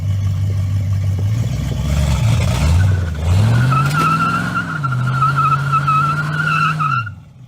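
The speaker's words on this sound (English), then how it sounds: "Burnout." Elko car with a mini spool doing a burnout, its engine revving hard and droning while the tires squeal continuously and loudly up close, the pitch rising and wavering before cutting off abruptly at the end.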